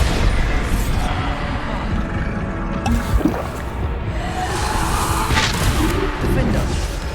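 Bombarda spell explosions in the video game Hogwarts Legacy form a dense, continuous rumble with heavy booming bursts layered over battle noise, with a voice sounding now and then.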